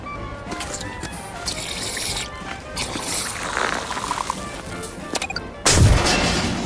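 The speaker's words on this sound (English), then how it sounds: "You about brought the place down with that explosion." A door is blown open by an explosion in The Outer Worlds 2 video game, with a sudden loud boom near the end rising over a busy, rumbling game soundscape.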